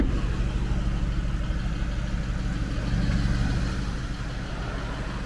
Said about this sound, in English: let's hear the engine, let's hear the exhaust